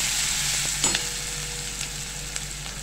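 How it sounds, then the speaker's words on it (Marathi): Chopped onion sautéing in a pan for a poori bhaji and aloo kurma dish: a steady, close sizzle runs throughout, broken by a few soft stirring scrapes, with no voices. "आता आपल्याला कांदा परतवून घ्यायचा आहे।"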